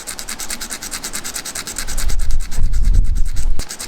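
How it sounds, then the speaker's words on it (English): 80-grit sandpaper rubs rust off a small metal electrical clip from a classic Fiat 500-family car, making fast rhythmic scratching strokes that grow heavier and closer partway through, with no talk. "using 80 sandpaper here"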